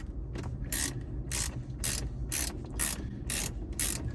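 A socket wrench with a deep socket and extension ratchets on 7mm dash bolts inside a Jeep Wrangler, giving repeated quick clicking bursts in a steady back-and-forth rhythm, close and clear over a low background hum.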